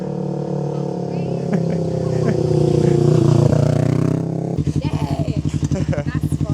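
A Yamaha R3 track motorcycle engine runs close by, first a steady droning hum, then a sharp switch to a rapid, pulsing beat like a shifted or revved throttle, loud and continuous.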